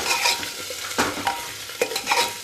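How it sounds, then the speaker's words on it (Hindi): Knol-khol (monji) pieces fry lightly in a pan with a soft, steady sizzle, broken by a few sharp scrapes and clacks of a stirring utensil, close up and with no one talking. "ये हमारी गांठ जो है हल्की हल्की फ्राई होने लगी है।"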